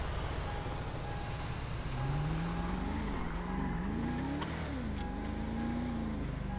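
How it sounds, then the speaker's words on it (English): A car engine in the GTA 5 roleplay game drones steadily, its pitch climbing and dipping as it revs, with constant road rumble and no talking. "You said the car sound is too low."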